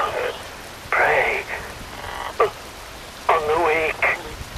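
Rain falls steadily during a boss fight in Metal Gear Rising: Revengeance, a constant broadband hiss under a spoken line.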